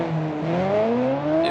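Muscle-car engine in the BeamNG driving game revving steadily, its pitch climbing in smooth rising harmonics over a second and a half, loud and close with no talk.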